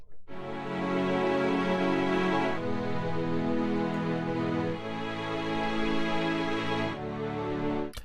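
Layered string chords from the Flex plugin in FL Studio sustain warmly, shifting through a few held chord changes over several seconds with no voices.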